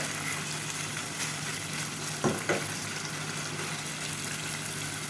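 Steady broadband sizzling of chicken frying in a pot, with a couple of brief clanks from stirring partway through and no voices.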